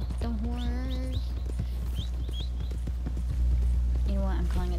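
Horse hooves clip-clopping in the Red Dead Redemption 2 video game, steady footfalls close by with short whinnies and a low constant background drone.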